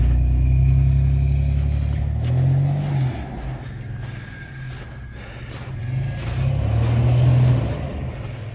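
Car pushing hard through snowy ruts on a winter road, its engine revving loud and close in two surging bursts with a quieter dip between, rough low rumble throughout.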